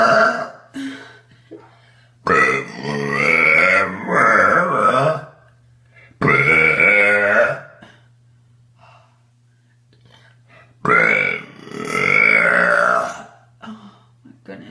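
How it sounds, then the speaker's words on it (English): A woman lets out several long, loud burps, each one deep and drawn out, separated by pauses filled with breathing close to the microphone. "I gotta burp."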